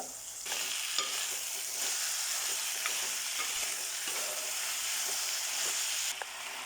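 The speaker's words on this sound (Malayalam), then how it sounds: "അതിന് ശേഷം ഈ കടച്ചക്ക അരിഞ്ഞത് ഇടുക." Chopped breadfruit stir-frying in a pan, a dense, even sizzle close up with occasional soft scrapes of a spoon beneath it, steady from start to finish apart from a brief dip.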